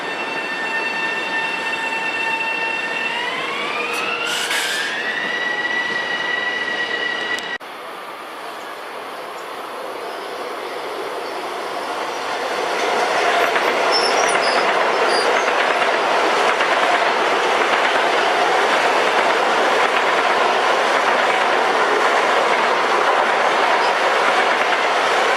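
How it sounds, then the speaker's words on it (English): A Long Island Rail Road express train passes eastbound on an adjacent mainline track, rising from a horn-like tone and rumble into a loud, sustained rushing roar of wheels and cars that stays steady to the end. "Got this eastbound on number 4, being passed up by an express on number 2."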